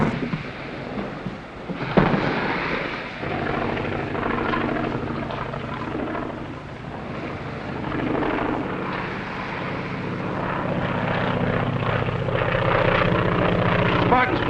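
A propeller airplane engine drones as it approaches, with a low rumble and a sharp knock early on before a steady, tonal hum sets in and gradually grows louder.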